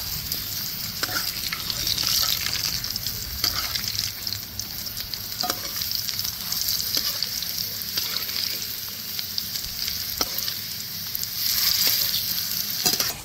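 Potatoes fry in hot oil in a pan, a loud, steady close sizzle and hiss with occasional soft clacks of a utensil against the pan, running throughout with no talk.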